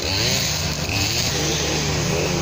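A tractor engine runs close and loud, a dense continuous mechanical drone with a steady throb and no pauses throughout.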